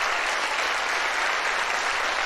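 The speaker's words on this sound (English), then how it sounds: "this random applause sound just keeps playing on loop" Steady, continuous applause from a large audience, loud and unbroken with no distinct individual claps, running like a looped sound effect with no voices.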